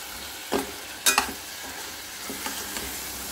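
Two tomatoes being stirred and fried in a pan at home, giving a faint steady sizzle broken by a few sharp scraping knocks of the spoon against the pan.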